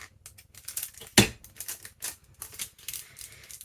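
Scissors snip a paper piece for a junk journal envelope in one sharp close cut, surrounded by soft rustling and handling of paper.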